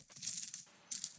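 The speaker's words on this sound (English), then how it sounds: "coin sound, just a few coins" A couple of quick bursts of bright metallic jingling, like a few coins dropping and clinking, separated by a brief pause.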